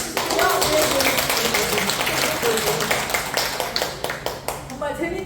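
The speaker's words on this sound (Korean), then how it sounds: "우리 세 분을 위해서 한번 박수 쳐주시고요." An audience claps at a Herbalife business meeting, a crisp, scattered patter of hands that thins toward the end into separate claps, with talk running underneath.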